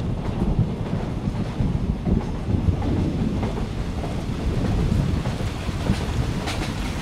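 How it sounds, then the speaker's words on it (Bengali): Steady heavy rain roars with a low rumbling, blustery undertone like gusting wind, continuous and loud throughout with no voices. "দমকা হাওয়া শুরু হলো বাইরে। আর তার কিছুক্ষণ পরেই নেমে গেল মুষলধারে বৃষ্টি।"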